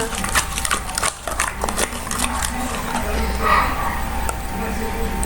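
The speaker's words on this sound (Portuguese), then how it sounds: "O cachorro da vizinha tá latindo igual um doido." A neighbor's dog barks over and over at a distance amid steady street noise from passing motorbikes and cars, with a faint voice now and then underneath.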